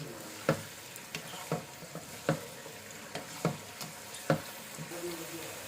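Chicken for green chicken karahi cooks on high flame with a soft constant sizzle, while spatula taps and scrapes against the pan land at a steady, regular pace.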